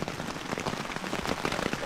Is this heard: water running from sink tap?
no